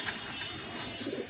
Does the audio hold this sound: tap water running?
no